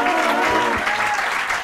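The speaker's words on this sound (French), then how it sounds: "Je vous demande d'applaudir" Audience applause in a comedy venue in Paris as a comedian is welcomed to the stage, steady dense clapping filling the short moment without pause, with a whistled tone and a few voices mixed in.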